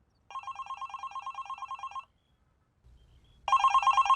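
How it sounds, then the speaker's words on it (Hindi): A mobile phone rings with a trilling electronic bell, one long burst, a short pause with a low rumble, then the ringing starts again. "और तुम्हारा फोन भी तभी बजता है।"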